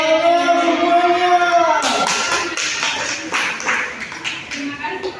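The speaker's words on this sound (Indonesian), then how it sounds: "tepuk tangan semuanya." An elementary school class bursts into scattered clapping right after a pupil finishes a sung or recited verse, and the clapping continues under other voices.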